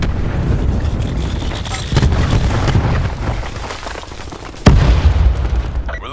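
Cluster grenade explosions in the video game Call of Duty Black Ops 4, a loud rumbling roar of blasts with a sharp burst near the end, all under continuous battle noise.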